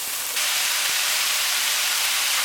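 A kilo of beef mince browns in a hot frying pan for goulash pasta, a loud, steady hissing sizzle that swells suddenly and then holds evenly.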